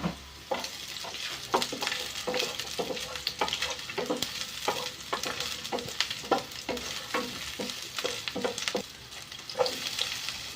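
Garlic and onion sizzling in a pan for chicken adobo, with a utensil repeatedly scraping and tapping as it stirs in an irregular rhythm, close and steady, no voices.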